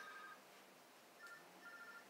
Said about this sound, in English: That's my phone in the briefcase.